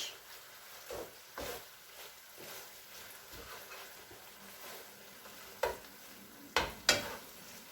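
A spoon works tandoori chicken pastilla filling around a pan in soft, irregular scraping strokes with a faint sizzle underneath, ending with a few sharper clinks against the pan.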